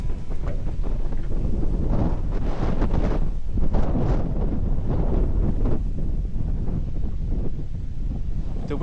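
Strong gusting wind sweeps across a river while fishing, buffeting the microphone in a loud, continuous roar that swells and eases over several seconds.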